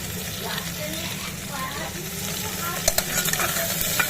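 Mutton is stirred and fried with tomato, ginger, cumin and garlic paste in a pan, giving a steady sizzle with scraping stir strokes and a few sharper clicks near the end.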